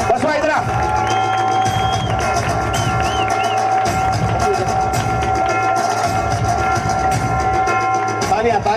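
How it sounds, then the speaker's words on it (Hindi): Crowd at the GPL cricket final at DSC Ground clapping and cheering for a team, dense continuous applause with whistles and shouts, while an announcer talks over a loudspeaker. "इस टीम के लिए जोरदार तालियां।"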